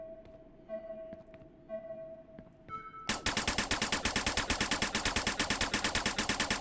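Gunshots in the Snapshot VR shooting game, a few isolated electronic tones first, then a dense rapid burst of synthetic automatic fire, loud and evenly spaced like a machine gun.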